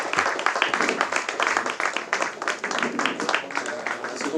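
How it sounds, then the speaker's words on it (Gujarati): A small audience claps for a team on stage in a steady patter of applause that stays moderate and continuous throughout. "ભાઈ જોરદાર તાળીઓ આ ટીમ માટે"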